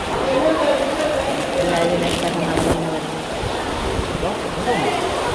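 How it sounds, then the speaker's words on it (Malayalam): Continuous rushing water splashing and flowing over rocks at Anjuruli, steady and fairly loud, with faint voices in the background. "ഇവിടുന്ന് വെള്ളം ഇങ്ങനെ ചാടിയാണ് പോകുന്നത്"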